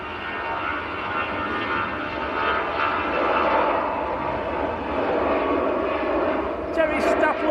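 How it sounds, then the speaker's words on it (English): An EasyJet Airbus A320 airliner taxis at Manchester Airport, a steady broadband jet-engine roar that stays loud and even throughout, with some faint background chatter mixed in. "Airbus A320."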